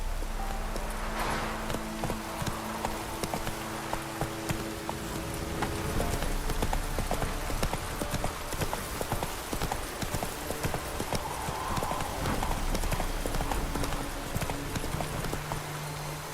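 Hooves drum in a fast, continuous rhythm as a horse gallops in The Witcher 3, with an occasional snort over a dense, loud backdrop of game ambience and music.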